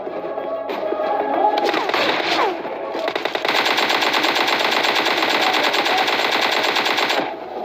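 Rapid automatic gunfire from a squad being wiped out in PUBG Mobile Lite, loud dense bursts rattling almost continuously with brief pauses between volleys.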